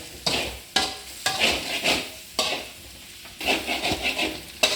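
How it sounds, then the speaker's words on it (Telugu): Cut boiled eggs being mixed into masala in a pan for an egg pepper fry, with repeated loud scraping and clanking strokes of a spatula against the pan over a low sizzle, close and unaccompanied by talk. "కట్ చేసి పెట్టుకున్న ఎగ్స్ ఉన్నాయి కదండి, ఇవన్నీ వేసేసేది. బాగా కలపాలండి."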